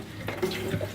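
Water gushes into a sink on a sailboat, drawn up by a foot pump at the galley, with a steady running flow and a few brief surges close by.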